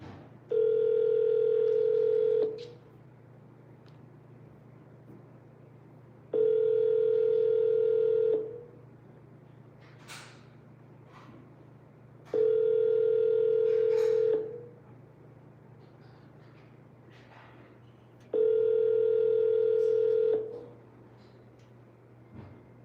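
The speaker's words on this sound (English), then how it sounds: "Dialing." Telephone ringback tone heard after dialing a number, four long steady beeps repeating at regular intervals over a low constant hum, clear and close.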